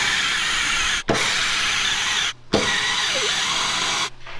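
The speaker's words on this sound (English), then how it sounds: "I'm going to hurry and spot weld drill all this." A spot weld drill bores through the rusted roof panel of a lifted limousine in three long, steady bursts with brief pauses between, loud and close with a rubbing, grinding tone and no talk.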